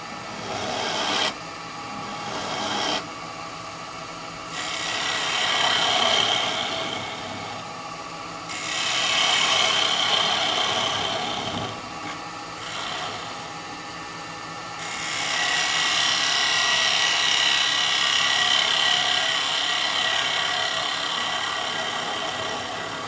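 Carbide chisel cutting a purpleheart bowl on a wood lathe, a steady close scraping rasp with a motor hum beneath that rises and falls as the tool engages and lifts off the spinning wood, no talk.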